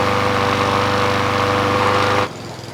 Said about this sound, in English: The gas mower, my buddy's Honda, came in at 102 decibels when it was passing by the decibel reader.